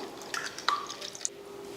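Water trickles and drips into a cooking pot while a Tamil vegetarian feast dish is mixed, giving scattered close, light splashy drops with no talk.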